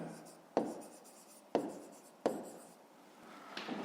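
Pen or pencil writing out a fifth-grade math solution on paper, with three sharp taps where the pen strikes the page and soft scratchy strokes in between, close and fairly quiet with no talking.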